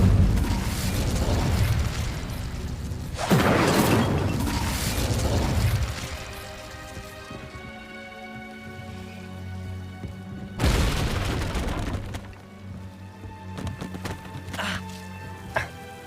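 Incendio fire spell cast in Hogwarts Legacy: a burst of whooshing fiery blasts with crackling and sizzling, repeated a few times and separated by quieter tonal game ambience.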